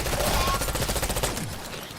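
Rapid automatic gunfire in Black Ops 6 zombies mode, a dense, loud burst of shots rattling steadily and fading slightly toward the end.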